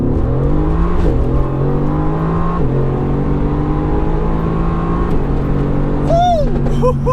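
A RENNtech-tuned Mercedes AMG GTR accelerates hard, the engine note rising through gears with clear drops at each shift, heard close and loud from inside, ending in a burst of crackling exhaust pops.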